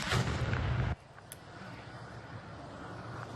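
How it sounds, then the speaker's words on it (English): Jet crash explosion on the I-75 highway in Collier County, a heavy distant boom and rumble that cuts off abruptly, leaving faint background noise and a brief high blip. "You can hear the sound of the explosion"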